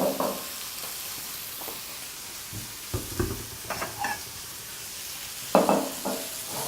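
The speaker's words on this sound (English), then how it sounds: "give your pan a bit of a shake and add the rest of your pieces, allowing them to brown for about 6 to 8 minutes at high heat" Food pieces browning in a pan at high heat, a steady faint sizzle broken by intermittent stirring scrapes and clatter.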